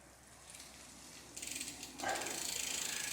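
Bicycle freewheel ratcheting as the pedals are turned backward during a basic tune-up, giving a soft, faint buzz that turns into a louder, steady rapid clicking partway through, with no talking.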